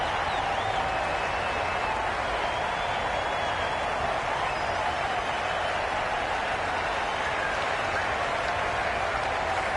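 A cricket stadium crowd at an IPL match between Chennai Super Kings and Royal Challengers Bangalore applauds in a sustained, dense wash of clapping and cheering, with a commentator's voice faintly beneath it.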